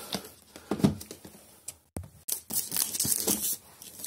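Plastic packaging being torn open while unboxing a parcel, a series of close, sharp ripping and crinkling bursts with brief pauses, no talking.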